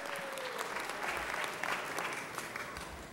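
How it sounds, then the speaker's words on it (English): An audience at an Italian-American heritage celebration in Los Angeles City Hall gives a steady, continuous round of applause, fairly distant and even in level, with no voices on top. "Let's give them a round of applause."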